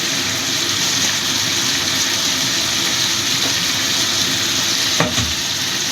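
Spices being stirred into a sizzling katla fish curry with Kashmiri chilli powder, a loud, continuous frying hiss with a scrape of the spoon near the end, no voices.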